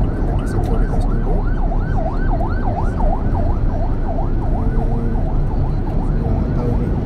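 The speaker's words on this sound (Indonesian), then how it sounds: "Oh di belakang suara ambulans." An ambulance siren wails loudly in a rapid, repeating up-and-down sweep on the Jakarta–Cikampek toll road, over dense, steady traffic rumble, with no voices.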